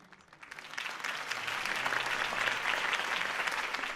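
Crowd applause at a campaign speech in the video game Batman: The Telltale Series, starting thin and quickly swelling into steady, dense clapping that holds to the end.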